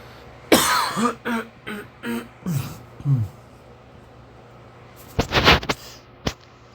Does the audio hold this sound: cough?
yes